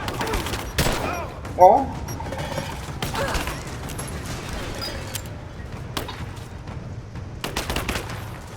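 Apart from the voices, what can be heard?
gunfire in video game Rise of the Tomb Raider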